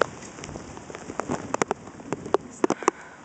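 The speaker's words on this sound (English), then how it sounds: "It's not raining quite as hard as it was a second ago." Rain patters steadily on a surface close by, with scattered sharper drops and splashes standing out from the constant hiss.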